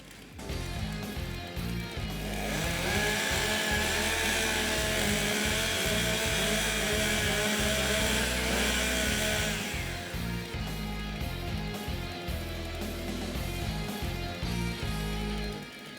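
STIHL stock chainsaws warm up at a timbersports stock saw competition, several engines revving and buzzing loudly together in a dense, sustained roar with a pulsing low throb, easing off partway through but still running.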